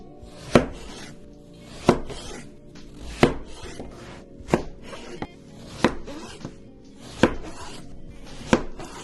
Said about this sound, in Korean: 1cm 정도의 두께로 썰어주세요.